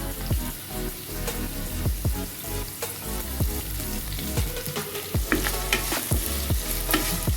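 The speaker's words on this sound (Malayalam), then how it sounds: "ഒന്ന് ഇളക്കി കൊടുക്കാം" Aloo palak curry of potato and spinach, seasoned with rock salt and turmeric, stirred in a pan with a spoon: steady sizzling frying under repeated scraping strokes, close and fairly loud, no voices.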